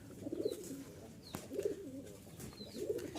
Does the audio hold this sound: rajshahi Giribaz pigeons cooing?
yes